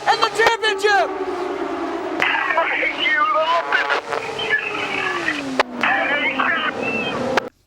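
IndyCar race cars on the final lap of a championship-deciding finale, engine note droning and sweeping down in pitch as the cars pass, with a race commentator talking over the sound throughout.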